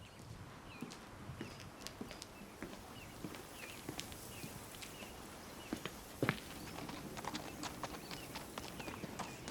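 Horse hooves clip-clop at a steady walking rhythm, fairly close, with scattered knocks and rustles and one sharper thump partway through, outdoors with no talk.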